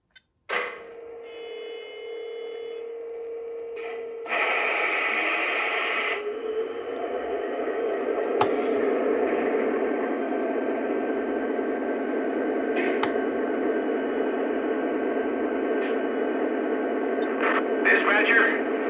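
Startup sounds from a Lionel Union Pacific Heritage model locomotive: crackling radio-style chatter and tones, then a steady diesel engine rumble that builds and holds, with short clicks and beeps over it.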